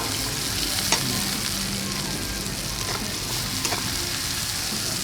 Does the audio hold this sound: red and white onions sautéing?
yes